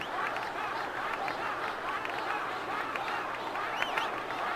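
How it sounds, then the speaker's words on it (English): Stadium crowd in a Final Fantasy X blitzball match at Luca, a steady roar of cheering and chanting that fills the whole stretch without a break. "So the crowd is calling for Waka."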